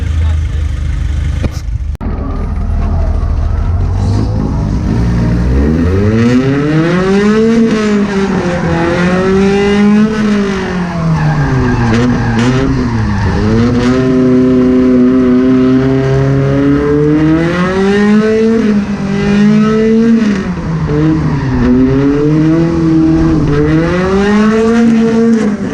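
Drift cars at the 2018 Drift Union Matsuri, with engines revving hard, rising and falling in repeated loud sweeps while following a white Volvo wagon around the track, and a continuous roar close by.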